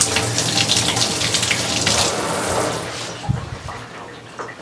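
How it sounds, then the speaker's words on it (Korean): Tap water gushing into a bathtub, a dense steady splashing rush close by that eases off toward the end with a few drips and knocks. "물을 틀어 볼게요"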